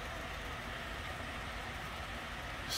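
A steady, continuous rumble and rattle of a model Roco E193 Vectron locomotive hauling a 35-car ore hopper freight train up a slight incline, even in loudness throughout.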